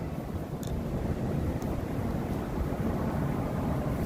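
Steady wind buffets the microphone outdoors on a cold, blustery day, a continuous low rumbling roar with no talk over it.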